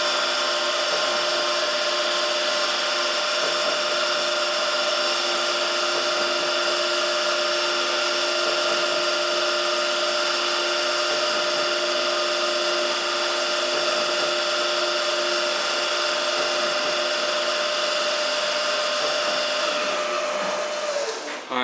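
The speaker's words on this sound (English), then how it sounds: "And now it's threading our part." A Haas TL1 CNC lathe threading a part gives off a steady, sustained mechanical whine with a constant pitch. It runs unbroken and fairly loud for about twenty seconds before fading slightly at the end.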